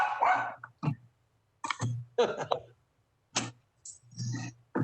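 A dog barks in short bursts, several separate yaps spread across the clip, fairly close, with someone speaking between and over them during a beer permit board meeting.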